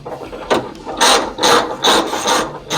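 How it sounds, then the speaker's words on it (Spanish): Ratchet removing screws from a car bumper, several quick clicking bursts in a steady rhythm, close and fairly loud, with no talk. "primero vamos a sacar los tornillos de acá arriba"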